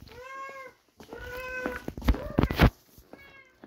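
A pet cat meows indoors, several drawn-out calls close to the microphone, ending in a louder, harsher cry with clattering noise and a final short meow.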